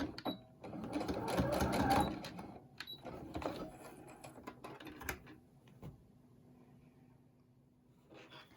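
A home sewing machine stitches and back stitches a fabric face mask, loud and busy for the first two seconds, then tapering into softer, intermittent mechanical clicks and whirs.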